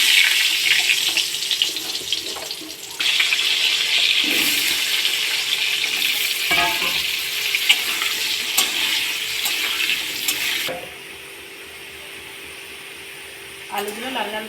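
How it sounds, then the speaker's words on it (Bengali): Potatoes fry in a pan for an egg and soybean curry. A bright, steady sizzling hiss carries occasional stirring clatter, then drops to a quieter fizz near the end. "এবার আলুগুলো ভেজে নেব।"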